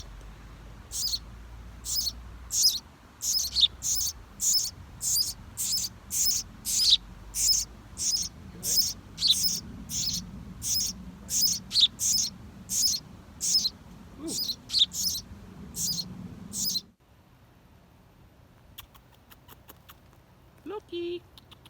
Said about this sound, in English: Keep watching, see the little bird.